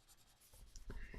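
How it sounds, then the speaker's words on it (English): Soft rubbing of a finger smudging pencil shading on paper, a faint dry scuffing that builds into a few firmer strokes near the end. "just rub it in with my finger."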